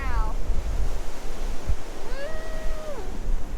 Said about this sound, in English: Oh, it is super windy right now.